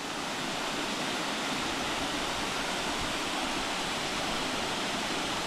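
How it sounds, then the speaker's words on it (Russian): A waterfall at the lower tier of a rocky gorge at Matlas, with water in free fall beneath an overhanging cliff, roars as a steady, dense broadband rush that fills the whole stretch without let-up. "Водопад здесь смотрится исключительно."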